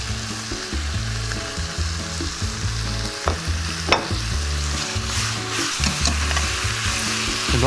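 Webfoot octopus and pork belly stir-frying in a hot pan, with a loud continuous sizzle and the scrape and clatter of stirring utensils, no talking.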